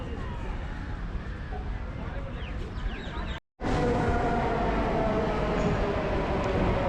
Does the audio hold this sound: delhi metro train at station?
yes